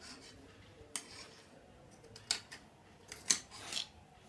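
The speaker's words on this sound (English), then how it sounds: "Now I'll cut this part also." Scissors snip through fabric being cut for a dhoti salwar, giving a few sparse, quiet crisp cuts spaced over a few seconds against a hushed room.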